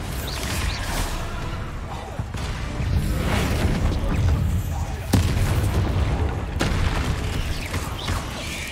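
Bombarda spell blasts in Hogwarts Legacy, fought in a cave: a string of loud booming bursts with sharp cracks near 5 and 6.5 seconds over constant rumbling game noise.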